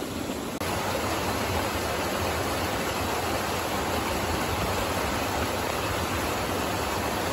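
A small stream flows steadily at the English-Welsh border in the village of Redbrook, a continuous close, broadband rush of water that holds at an even level throughout with no voices.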